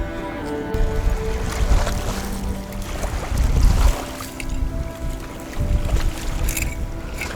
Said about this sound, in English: Wind is kicking the dust up into my eyes.